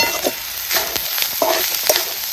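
Masala for village-style dal kanda (onion and lentil dish) sizzles in a pan while being stirred, with scraping spoon strokes recurring through a steady close fry and no voices.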